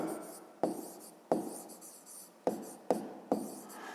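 Handwriting during a fifth-grade math lesson: a pen or chalk scratches in short strokes with sharp taps as each new stroke starts, close and quiet, with no talk.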